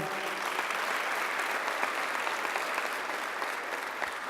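Steady applause from a sizable audience, dense and sustained throughout with no voices standing out.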